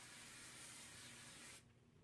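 Hairspray is sprayed over a cheerleader's hair to glue down a bump style. A steady, close, breathy hiss runs continuously for about a second and a half, then cuts off abruptly.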